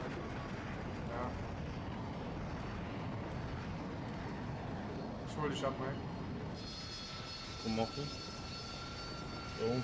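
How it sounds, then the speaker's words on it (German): An aircraft drones steadily overhead in a multiplayer video game, its engine roar continuous under game effects and occasional bursts of noise, while players talk over voice chat. "Fliegt noch ein Heli"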